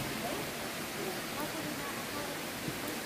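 Water runs in a cave stream as a steady, rushing hiss that stays even in level throughout, with faint voices murmuring underneath.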